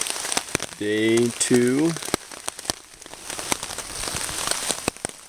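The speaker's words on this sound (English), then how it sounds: "it started to rain. Been heavy, light, heavy, light." Rain patters on a tent at a campsite, a dense crackling spray of drops with sharper individual hits, close and steady while someone briefly speaks over it.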